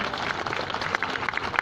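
Audience at a gathering with an IT and communications minister present gives applause: a short, moderately faint patter of clapping with a few sharper claps near the end.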